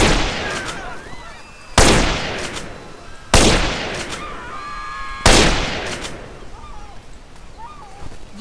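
Four loud, sharp sniper rifle shots in GTA San Andreas, from a chrome and laser weapon mod pack, each with a booming decaying tail, spaced about two seconds apart.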